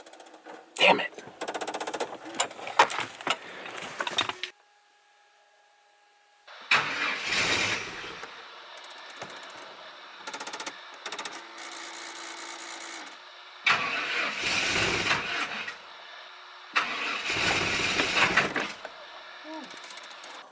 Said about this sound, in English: truck starts, but here's the problem. It doesn't turn off.